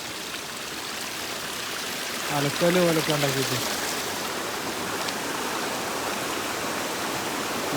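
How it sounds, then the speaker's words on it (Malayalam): Monsoon-season stream flowing just below a house, a steady rushing wash of water throughout, with someone talking briefly over it partway through. "അവിടെ നിന്നൊക്കെ ഇങ്ങനെ വെള്ളം ഒഴുകി വരുന്നുണ്ട്"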